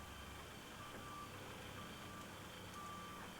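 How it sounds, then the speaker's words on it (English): A dump truck reversing, with a faint, steady series of high reversing beeps over a low engine hum, heard alone from some distance. "There's another kind of dump truck"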